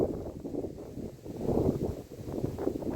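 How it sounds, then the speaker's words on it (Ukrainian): Steady low roaring wind on the Dniester River buffeting the microphone in gusts, loud and continuous, with rustling underneath. "піднявся скажений вітер, дує дуже сильно, хвилю наганяє"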